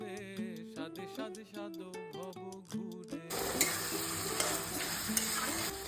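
Desi chicken and partly fried potatoes sizzle and are stirred in a pan of ground spice masala for a village-style curry; tonal music plays for the first half, then a loud, steady frying hiss takes over with scraping stirs.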